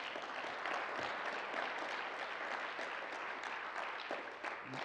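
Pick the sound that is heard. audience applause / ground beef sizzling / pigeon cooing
audience applause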